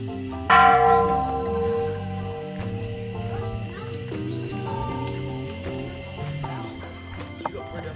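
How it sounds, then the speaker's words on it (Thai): Temple bells ring at Wat Phra That Doi Suthep: a loud close strike opens, then further overlapping metallic chimes decay and ring out, with birds chirping faintly in the background. "ทางด้านทิศเหนือขององค์พระธาตุก็จะมีระฆังเรียงรายอยู่อีกจุดหนึ่ง"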